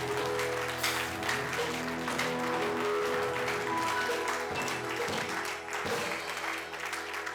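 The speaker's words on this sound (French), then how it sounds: "Acclamons très fort pour la gloire de notre Dieu" A church congregation at an ordination service applauds loudly and continuously, a dense wash of clapping that fills the room with scattered cheers and low voices mixed in.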